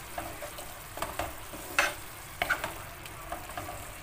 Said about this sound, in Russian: Помешаю.